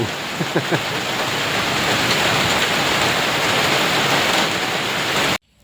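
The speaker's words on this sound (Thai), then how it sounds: "วันนี้ก็ทำกลางสายฝนอีกคือเก่าแล้วครับ" Steady, dense rain hiss fills the whole stretch, loud and continuous, with a few faint low knocks near the start before it cuts off abruptly.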